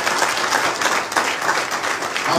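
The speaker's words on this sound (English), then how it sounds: "Please, a round of applause for Pastor Dr." A crowd claps continuously for Pastor Kumuyi at a Niger State government reception, a dense and even wash of applause that fills the whole moment.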